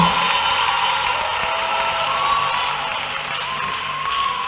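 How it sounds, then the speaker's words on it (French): A church congregation applauds and cheers in a steady, dense wash of clapping with scattered whoops. The sound holds at a fairly even level for the whole stretch, with faint voices mixed into the crowd. "Applaudissons pour le Jésus."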